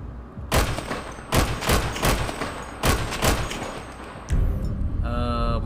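Marksman rifle gunshots from a video game gun sound mod, several loud booming shots fired in an irregular sequence with echoing tails, ending with a mechanical rattle.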